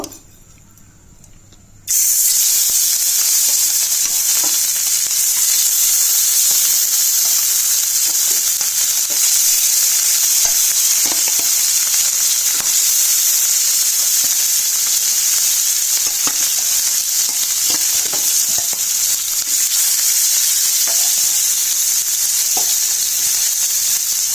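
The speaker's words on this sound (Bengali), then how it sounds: "তেলটা আমার গরম হয়ে গেছে। আমি মাছগুলোকে এখন ভেজে নেব।" Rohu fish frying in hot soybean oil on a tawa gives off a loud, steady, close sizzle with dense crackle, rising suddenly after a quiet start and holding strong throughout.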